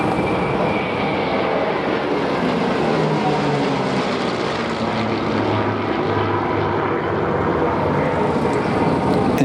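Propeller-driven Messerschmitt 109 fighter flying at the Duxford Flying Legends air show, its engine a loud, steady, unbroken drone that holds throughout with no voices over it.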